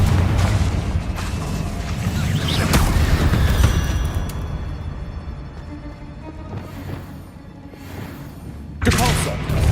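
A Confringo spell blast in the video game Hogwarts Legacy brings loud booms and thuds, with a chain of rumbling impacts and mechanical clatter that fades before a final burst; a voice talks at times over the action.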